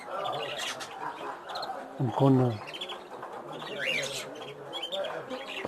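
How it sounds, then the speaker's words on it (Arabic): Ornamental birds, including cockatiels, chirping and calling inside a bird shop, with cooing pigeons or doves among them; a steady chorus of tweets and calls runs throughout under someone talking nearby. "هذه طيور الزينة، كالوبسيت أيضا، ها هما الكالوبسيت"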